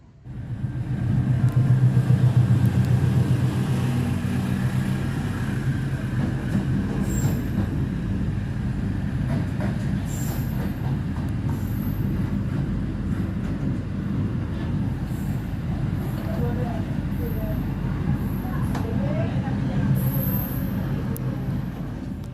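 Inside the Blambangan Express passenger train, the rails give a steady low rumble and rattle of wheels, with occasional faint squeals and clanks, continuous throughout.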